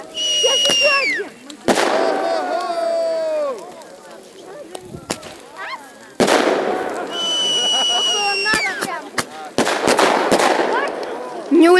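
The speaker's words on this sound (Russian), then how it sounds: "О, салют!" Old New Year fireworks in an outdoor crowd by a huge burning heap of tyres: repeated loud, cracking bursts scattered irregularly, some in quick clusters, with voices talking between and over the blasts.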